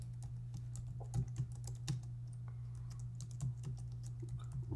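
Computer keyboard typing while an outliner sits in edit mode, scattered key clicks in short irregular bursts over a steady low hum, fairly quiet and close.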